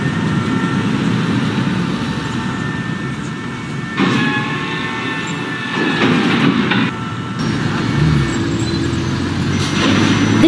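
A Brighton Beach bound New York subway Q express train at Newkirk Plaza station gives a loud, continuous rumble and roar that rises and falls, with clattering as it passes close by, and no talking.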